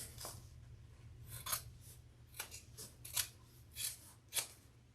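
Scissors trim the fabric seam allowance of a handbag with a series of crisp, evenly spaced snips over a low steady hum, close up and with no voices.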